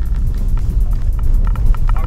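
Car accelerating on a snowy road during a snow-driving lesson, a steady low engine drone held loud and close throughout with faint higher tones riding on top.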